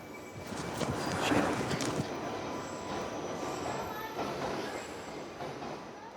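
A London Underground train sits at or runs through East Finchley station, a steady rumble with squealing wheels and metallic rail noise, fairly distant and even throughout.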